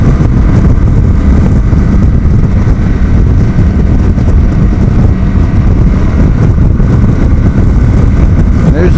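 Heavy wind noise buffeting the microphone while riding a Kawasaki Vulcan 900 motorcycle with a windscreen, a loud, constant low roar with the engine buried underneath, unbroken throughout.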